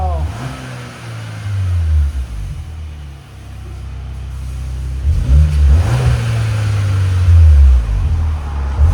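A 2025 Kia Sorento 2.5L engine revs through Borla ProXS dual exhaust with a deep, low note, two separate bursts of throttle rising and falling, moderately loud and close, with no talking.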